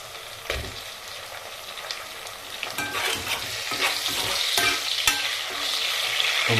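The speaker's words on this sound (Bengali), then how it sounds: "পেঁয়াজ কষাইলাম, পেঁয়াজ কষাইয়া" Onions and tomato fry in a pan, sizzling loudly while a spoon scrapes and knocks against the metal in irregular strokes, the hiss swelling toward the end, with no voices.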